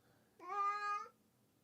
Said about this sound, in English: I've got a bunch of cat sounds from where I get my music from